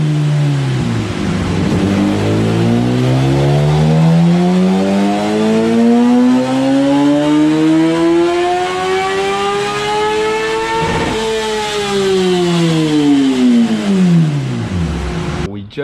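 A 2014 Kawasaki ZX10R sport bike engine on a dyno, revving loudly and continuously as it climbs steadily through the rev range to a high-pitched scream, then briefly drops and climbs again before cutting off.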